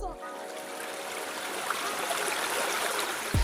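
Steady rushing water from a waterfall-fed stream in a tropical garden at Sintra, a continuous broadband splash and trickle held at even level throughout, with a brief low thump near the end.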